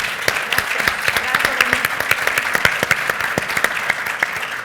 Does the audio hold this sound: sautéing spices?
no